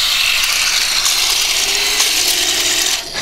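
A Heng Long Tiger 1 1:16 airsoft RC tank runs at full throttle, its gears and tracks giving a loud, steady mechanical grinding rattle that eases off near the end.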